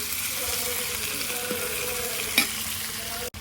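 Onions frying in a pan until light brown for a Punjabi bhindi sabzi, a steady close sizzle and crackle with a few stirring scrapes and one sharp clink near the end.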